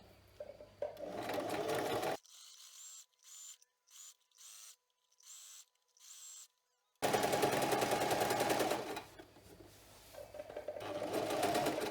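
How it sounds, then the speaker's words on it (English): A sewing machine stitches a fleece scarf, including reverse stitches, in a run of short close bursts with brief pauses between them, alone with no talk. "You should do a reverse stitch at the beginning and at the end."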